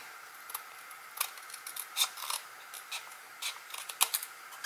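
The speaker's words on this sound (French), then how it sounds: "Je vais couper l'excès de papier." Scissors snip through excess paper during card making, giving a run of short, crisp cuts in uneven rhythm, close by and fairly quiet, with no talk.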